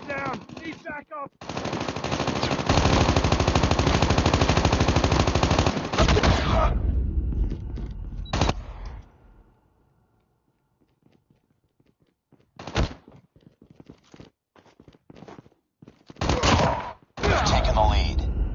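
Heavy sustained automatic gunfire in a COD Mobile gunfight on the Killhouse map, a long loud burst followed by quieter gaps and then short sharp volleys, with game voice callouts at times.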